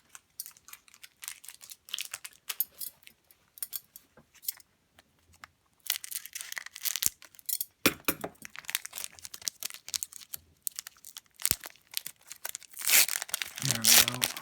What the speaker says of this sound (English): I'm going to have to use my scissors.